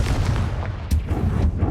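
A Confringo blast curse going off in Hogwarts Legacy, a loud burst with booming impacts and a sharp crack near the middle, set against dense game battle noise.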